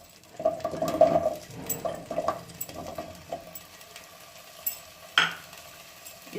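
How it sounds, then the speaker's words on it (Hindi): Drumstick pieces going into hot oil in a pan: a soft sizzle with clinks and stirring scrapes, a louder sharp clatter near the end, fairly faint overall. "ऑयल गरम होने के बाद हम इसमें ड्रमस्टिक डाल देंगे।"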